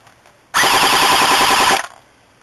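An airsoft MP7 firing on fully automatic, one loud rapid burst of buzzing shots lasting just over a second, close and alone against quiet surroundings.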